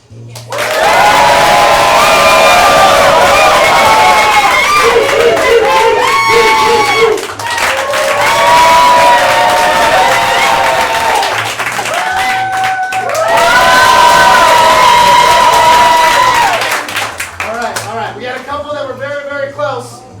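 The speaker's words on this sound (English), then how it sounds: "listen for who receives the loudest applause" A large live improv comedy audience in St. Petersburg cheers and applauds loudly in swelling waves, with shouts and whistles rising above the roar and a brief lull in between.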